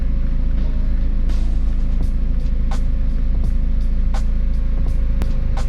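A turbocharged Honda Civic B16 engine idles around 750 rpm after a full overhaul, a steady low rumble close by, even and continuous, with a few faint clicks and ticks over the drone.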